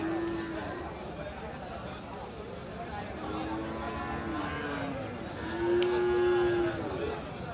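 Bulls mooing several times in Thakurgaon, Bangladesh, low drawn-out calls spaced a few seconds apart, with voices and outdoor bustle in the background.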